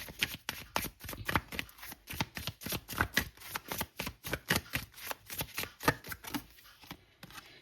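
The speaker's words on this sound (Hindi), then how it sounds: "बाद में बात करेंगे, पहले कार्ड्स निकाल लेते हैं" Tarot cards are shuffled by hand in quick, even riffling bursts, close and crisp, repeating steadily for several seconds with no talking.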